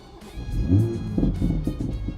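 A Toyota Supra MK5 with a Stage 2 tune and over 600 horsepower fires up: a short starter crank followed by a deep rumbling idle that swells and then settles into a steady low burble, close by.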